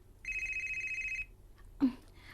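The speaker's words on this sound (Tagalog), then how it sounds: "Ang akong cellphone." A cellphone rings with a single electronic tone lasting about a second, followed by a brief dull thump nearby in a quiet room.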